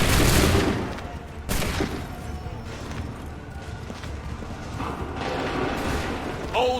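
Musket volleys crack in the video game Assassin's Creed 3, a loud opening blast followed by another sharp volley and scattered shots, with battlefield clatter and distant commotion between them.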